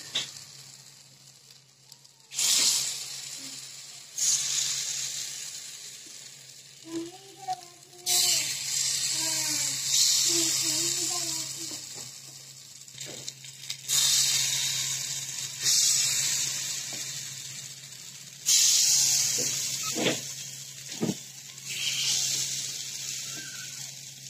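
Rava appe batter hits hot oil in an appe pan, sizzling in repeated bursts as each cavity is filled, loud and close, with brief quiet gaps between pours and a faint voice in the background.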